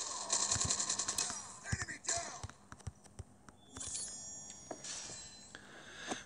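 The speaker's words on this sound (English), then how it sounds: "Shoot the gun!" Gunfire in the Call of Duty Mobile video game: bursts of rapid automatic shots and sharp impacts crackle through the opening seconds, with scattered single shots and game effects following, fairly quiet overall.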